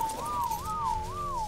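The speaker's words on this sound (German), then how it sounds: "Kannst du mal pfeifen?" A player whistles in the video game ARK, a clear, steady tune of rising and falling pitch glides repeated about three times, close and alone over a faint game background.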